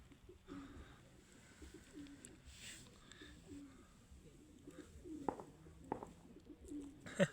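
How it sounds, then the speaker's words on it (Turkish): Soft, low cooing from a dove or pigeon close by, repeated in gentle phrases, with a few faint rustles and taps. "Çok güzel bir kuşmuş."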